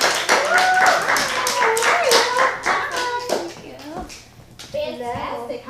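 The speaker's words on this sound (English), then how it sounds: "give a big round of applause for Maria Palermo." Studio audience on a talk show clapping and applauding to welcome a guest makeup artist, a steady burst of many hands for about four seconds with lively voices and cheering over it before speech resumes.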